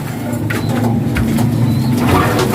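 Racing pigeons cooing during feeding, soft low repeated coos close by over a steady background hum with faint chirps.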